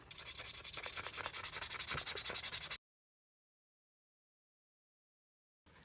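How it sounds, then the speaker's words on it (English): Sandpaper rubs quickly back and forth over a differential part from an ARRMA Granite 3S BLX RC car, close and steady for about three seconds before cutting to silence. "I'd just sand it a little bit."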